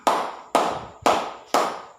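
Four strong unison claps from a classroom of students doing a rhythmic clapping routine, evenly spaced about half a second apart, loud and close with short ringing tails.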